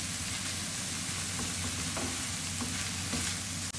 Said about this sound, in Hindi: कीमे ने कलर चेंज करना शुरू कर दिया है और माशाल्लाह से बड़ा अच्छे तरीके से भून रहा है ये